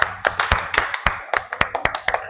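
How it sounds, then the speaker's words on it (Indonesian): A classroom group of lower-secondary students claps together in a string of sharp, fairly evenly spaced hand claps, close and clear, with no talking over them. "Tepuk tangan."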